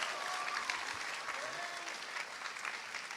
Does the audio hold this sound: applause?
yes